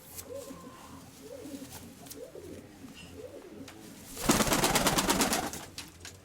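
Fancy-tailed pigeons coo in soft, repeated rolling calls, followed by a loud stretch of flapping or rustling near the end.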